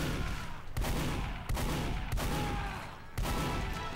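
Weapon fire in Team Fortress 2 comes as four sharp, evenly spaced shots at a steady rate, fairly faint, over a continuous noisy game background with no talking.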